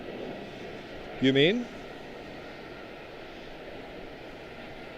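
Etihad airliner at Charlotte-Douglas International Airport: a steady, low, distant jet roar fills the whole stretch, with a brief voice speaking briefly over it.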